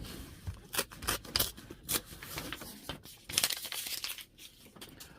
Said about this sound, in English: take a pair of scissors and cut along that line